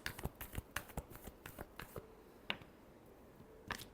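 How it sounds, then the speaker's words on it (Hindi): Tarot cards are shuffled close up, with a quick run of crisp riffling snaps and flicks in an uneven rhythm, then a few scattered slaps after a pause. "last shuffle"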